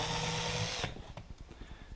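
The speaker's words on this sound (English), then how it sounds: "go in at an angle, at the angle I want, pretty flat, and drill through that support" A power drill bores through the mirror support on a 2014 Can-Am Spyder RT, a loud close whine that cuts off suddenly and gives way to quieter clicks and rattles.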